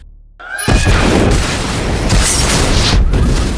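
A bomb blast at a police headquarters in an action film erupts suddenly as a loud, sustained roaring explosion with rumbling low end and crackling debris continuing for several seconds.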